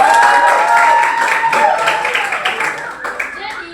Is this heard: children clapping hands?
yes